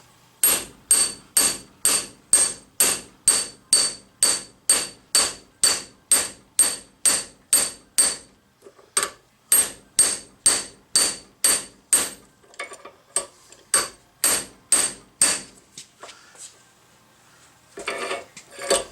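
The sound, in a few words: hammering on steel bushing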